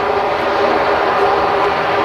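A Jet2 airliner at Manchester Airport roars steadily, a loud, continuous broadband jet engine rush with no breaks and no talking.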